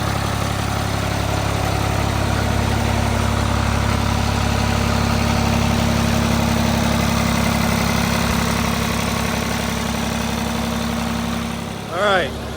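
Old Ford diesel tractor with a mechanical injection pump, idling close and loud in a steady, even rumble with a constant low hum throughout, ending with a short change in tone.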